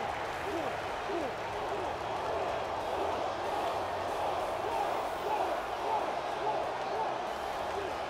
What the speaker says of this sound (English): I love how out of sync the crowd is.